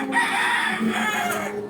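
A chicken or rooster calls loudly and close, its voice stretched and wavering over about two seconds of steady background noise.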